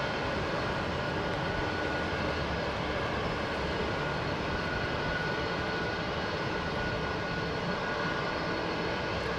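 Jet airliner with Rolls-Royce XWB engines at London Heathrow, heard as a steady, dense engine rumble and whine that stays even and moderately loud throughout, with no talking.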